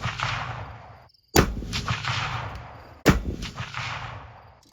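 Rifle shots from a 7mm Backcountry Savage Trail Hunter Lite firing 175 grain Federal Fusion ammunition at a 100-yard range: loud sharp cracks with ringing decays, a third shot cut off at the start.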